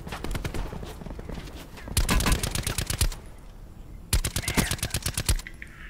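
Rapid automatic gunfire in Call of Duty: Black Ops 4, two loud bursts of quick repeated shots standing out over a steady background of game noise, with players talking in between.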